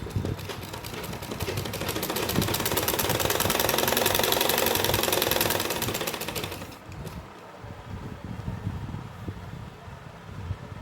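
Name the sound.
sewing machine stitching a palazzo pant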